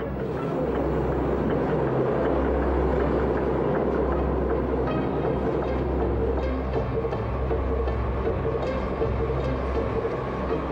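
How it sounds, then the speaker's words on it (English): A Brooklyn Express subway train speeds along in a loud, continuous roar, a dense rumble of wheels and motors with metallic rattling that holds steady throughout. "125 passengers were on board the speeding train."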